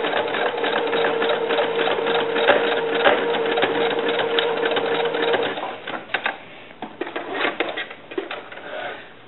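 A sewing machine runs a zigzag stitch back and forth on a small doll bra, a close, rattling whir for about six seconds, then shorter stop-and-start bursts.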